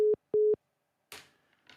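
Two short, loud tones of a telephone busy signal after a call drops, followed by a faint burst of noise and brief indistinct sound.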